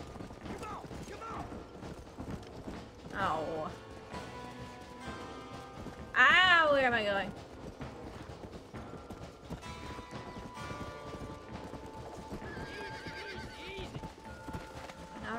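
Horse hooves clip-clopping and a sharp neigh in Red Dead Redemption, with a loud whinny near the middle over game ambience, creaking tack and a person talking.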